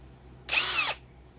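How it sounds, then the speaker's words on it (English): A power drill spins up and bores into wood in one short, loud, steady whir of about half a second before stopping. "You're going to need a power drill"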